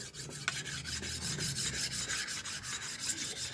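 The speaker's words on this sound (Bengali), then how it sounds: "এইভাবে করে ঘষে ঘষে একে কমপ্লিট করব" A carbon steel kitchen chopper rubbed and filed to a finish, with steady, close, repeated rasping strokes in an even back-and-forth rhythm and no voices.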